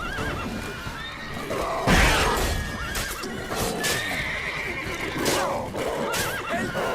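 A horse in the video game Witcher 3 neighs in several high, wavering whinnies, close and loud, over steady clip-clopping hooves and game ambience, with no talk.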